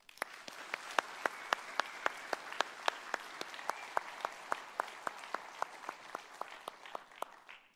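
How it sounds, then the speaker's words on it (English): Applause from the audience at a sheriff's office awards ceremony: a steady wash of many hands clapping, with a few sharp, regular claps standing out above it and lasting several seconds. "One more round of applause."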